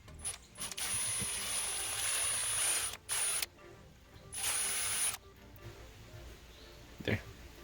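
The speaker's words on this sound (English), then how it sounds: "drill a hole in the corkscrew." A drill boring a hole through a corkscrew, whining loudly in two long bursts with a shorter one between, then stopping, with a brief clunk near the end.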